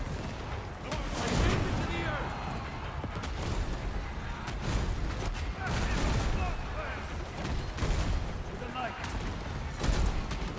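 A tank battle in the alpha of the video game March of Giants: rapid, overlapping bursts of gunfire and booming cannon shots, with a voice talking over the noise.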